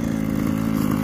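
A Carson Wild Attack GP nitro RC car engine screams at full revs with its differential open and a wheel spinning freely, giving a loud, close, steady high-pitched whine for about a second.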